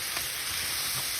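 Mushrooms sizzle in a skillet with garlic, butter and Worcestershire sauce, giving a steady, close frying hiss with a couple of soft clicks over a short stretch.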